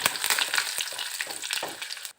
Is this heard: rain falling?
no